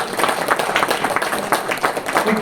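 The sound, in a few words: audience applause, clapping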